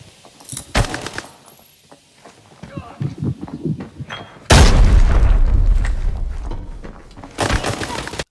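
A grenade blast in the shooter game Arena Breakout, a sudden loud boom with a long rumbling tail midway, after scattered gunfire and clatter, with a voice talking over parts of it.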